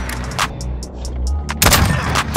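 Sniper rifle fire in Modern Warfare, with a few sharp gunshot cracks and clicks leading to a loud, heavy report late in the clip followed by a brief rumble.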